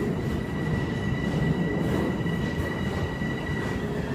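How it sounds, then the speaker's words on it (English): A New York City subway train pulls into the platform with a loud, steady rumble of wheels and a faint high squeal, continuous and close throughout. "Here comes my train"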